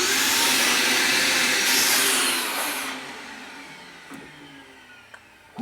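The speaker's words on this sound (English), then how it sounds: "And now very carefully pull a vacuum." A vacuum cleaner pulls a vacuum on a sealed setup while building a guitar, a loud, steady whooshing roar for about three seconds that then fades and winds down, followed by a few faint clicks.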